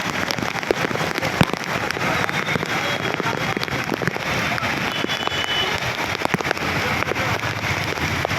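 Heavy rain pours down over Ahmedabad, a dense, steady hiss of water with scattered sharp drop impacts, continuous and fairly loud, with no voices.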